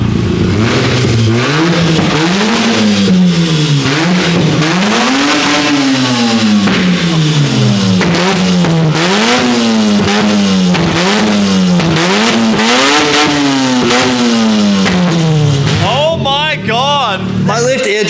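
A loud, raw turbo 13B rotary engine with open headers revs repeatedly in rising and falling sweeps, harsh and close, with people talking intermittently over the din.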